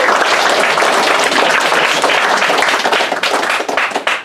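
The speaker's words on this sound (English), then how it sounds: "Give her a round of applause." An audience at a live stage show applauds, a loud dense burst of many hands clapping that thins out toward the end, with no one speaking.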